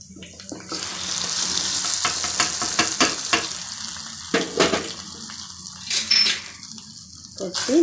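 Hot tempering of cumin, curry leaves and cashews poured into venpongal, giving a brief burst of sizzling and splashing followed by stirring, with scattered clinks and a loud crackle near the end.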